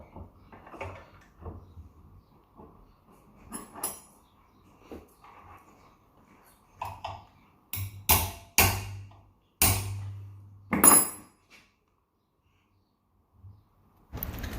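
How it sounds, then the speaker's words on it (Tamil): A screwdriver taps a new bearing onto a Samsung split AC indoor fan motor: a run of sharp metallic knocks, some in quick pairs, close and loud, with quieter handling noise before and a pause near the end. "ஸ்க்ரூ ட்ரைவர் வச்சு தான் அடிக்கணும்"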